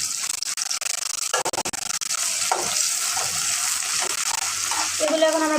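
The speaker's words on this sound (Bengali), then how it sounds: "এগুলো এখন আমরা ভালো করে মিক্স করে নেব এবং একটু ভেজে নেব।" Banana stem mixture with garlic paste fries and is stirred in a pan, giving a loud, continuous sizzle broken by scraping strokes and a few clatters.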